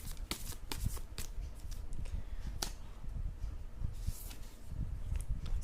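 A tarot deck is shuffled and a card drawn, a continuous close papery riffle and flutter of cards with soft taps and slides, no talking.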